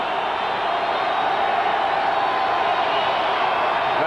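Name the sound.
stadium crowd noise at American football game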